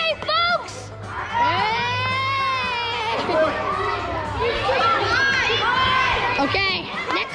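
A crowd at a 2022 pickleball championship cheers and whoops loudly, with many high excited voices, shrieks and shouts overlapping in a sustained roar, and a nearby announcer speaking amid the noise.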